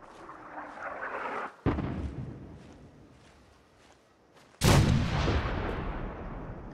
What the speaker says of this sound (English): You've now got artillery support.